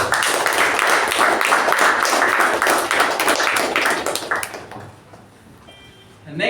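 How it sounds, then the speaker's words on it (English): Audience applause for Toastmaster Ujwal at a Toastmasters club meeting, a dense, steady burst of many hands clapping that fades out after a few seconds into near silence. "A round of applause to Toastmaster Ujwal and Toastmaster"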